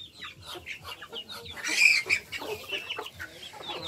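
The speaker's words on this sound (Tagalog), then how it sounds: "Nagpasiaw-siaw ang mga manok." Chickens clucking in a farmyard, a cluster of short, sharp calls repeating close by at moderate loudness, with no talk over them.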